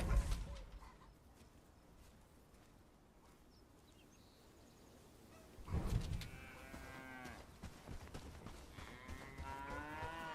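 A cow moos loudly and close by in the Bellwright game, a drawn-out bellowing call near the middle of the stretch, with softer lowing calls following over a quiet outdoor background.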